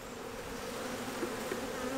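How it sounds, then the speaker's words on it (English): Honey bees drone in a steady, continuous buzz around a hive, a low even hum with no voices. "There's not a whole lot of bees down here"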